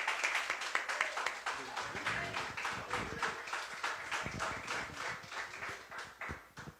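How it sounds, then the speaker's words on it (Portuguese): A church congregation applauds, with brisk, fairly even clapping from many hands running throughout at moderate volume, easing slightly near the end. "Aplauda o Senhor."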